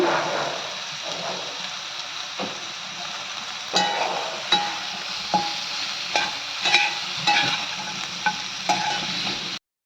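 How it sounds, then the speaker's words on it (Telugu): Chicken pieces go into a pan of sizzling coconut and poppy seed paste gravy, frying with a steady crackle while a spoon scrapes and stirs in repeated close knocks. "గ్రేవీ ఫ్రై అయిపోయిందండి. చికెన్ వేసుకోవాలి."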